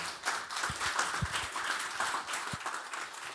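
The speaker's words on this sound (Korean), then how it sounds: "큰 박수로 맞아주시면 감사하겠습니다." An audience claps to welcome a speaker at a symposium, steady moderate applause of many hands with a few sharper individual claps throughout.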